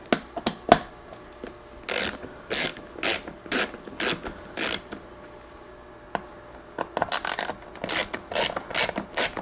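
Ratchet backing Torx 15 screws out of a salvaged C5 Corvette fender, rapid bursts of close clicking pawl strokes separated by short pauses, loud and crisp.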